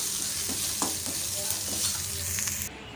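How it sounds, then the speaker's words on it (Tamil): Spices for tempering crackle and hiss in hot oil, a dense close sizzle with faint stirring scrapes, cutting off abruptly near the end; no speech. "இந்த எண்ணெயில் எல்லாமே நல்லா தாளித்து ரெடி ஆகட்டும்"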